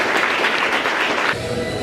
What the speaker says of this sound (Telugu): ఒకసారి గట్టిగా క్లాప్స్ ఇవ్వాలని కోరుకుంటున్నాం